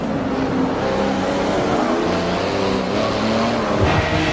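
A loud, sustained racing car engine in Forza Motorsport 7 hums and revs steadily, with tonal whine shifting in pitch and a faint tyre noise near the end.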